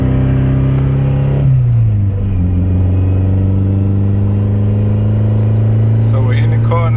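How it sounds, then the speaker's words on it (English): A cold turbocharged Honda engine warming up idles close by, its tone dropping from a higher fast idle to a steady lower hum after a couple of seconds, continuous and loud. "Car is warming up."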